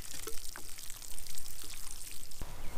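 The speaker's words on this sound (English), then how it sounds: "And then we gotta water them in really well." Water is poured onto newly planted squash in a home garden, a soft, faint splashing and trickling with a few quiet knocks.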